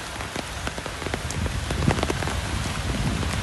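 Steady rain patters on hard surfaces and an umbrella during a walk at Prince of Songkla University in Phuket, Thailand, with dense close drips and sharper drops ticking over a constant wash, no voices.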